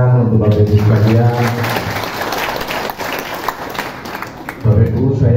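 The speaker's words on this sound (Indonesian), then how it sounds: "Luar biasa, tepuk tangan untuk Bapak Ibu sekalian." Audience applause at an indoor gathering breaks out between a man's spoken lines, a dense burst of clapping in the middle with talk before and after it.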